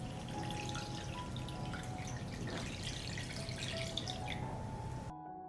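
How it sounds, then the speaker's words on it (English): Water poured into a pot holding glass jars set on a cloth, a steady splashing trickle running for several seconds before cutting off abruptly. "I pour water up to the height of the lid."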